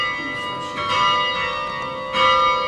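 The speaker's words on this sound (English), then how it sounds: "The bells are all over a quarter of a tonne." Large church bells, each over a quarter of a tonne, ring in the Swan Bell Tower in Perth, Western Australia, producing sustained overlapping metallic tones with fresh strikes swelling in, loud and close inside the tower.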